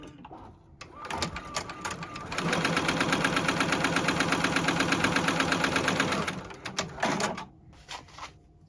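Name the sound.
JUKI embroidery sewing machine stitching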